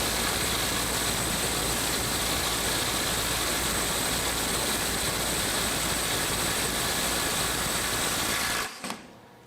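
A Milwaukee 12V impact wrench set to 400 foot-pounds hammers loud and close in one long, steady burst, then cuts off sharply near the end.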